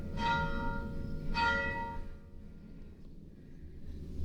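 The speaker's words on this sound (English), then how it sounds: "when we were in there and they were ringing the bell" The church bell of Pfarrkirche St. Sixtus in Reisenberg rings out in two bright, resonant strikes about a second apart, each followed by a ringing decay that fades into quiet.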